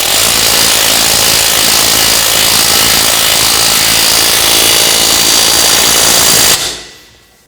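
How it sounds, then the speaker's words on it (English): Power tool tightening a rear wheel hub bolt on a 2000-2006 BMW X5 during a hub bearing module replacement, a loud continuous rattling whir lasting several seconds, then cutting off and fading away. "Tighten this bolt down."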